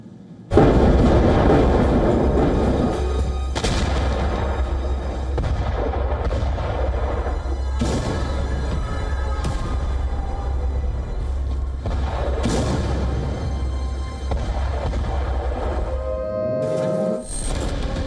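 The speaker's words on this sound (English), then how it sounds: "Just a series of explosions, one after another." Missile strikes in a Russian-targeted attack sounding as a rolling series of heavy booms, one after another, loud and reverberant over a constant low rumble, with a sudden cutoff near the end.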